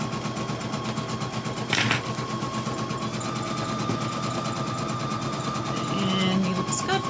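A single needle embroidery machine stitches a patch with a continuous fast mechanical whir and rattle, steady and fairly loud, and a person talks over it.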